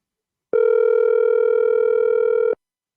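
Outgoing call ring tone on a talk-show phone line, one steady two-second electronic buzz beginning after a short pause and cutting off cleanly, with silence around it.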